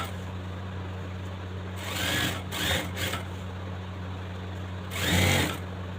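A sewing machine stitches a belt onto a pair of pants in short bursts, two brief runs of rapid whirring clatter over a steady low electrical hum, close and moderately loud.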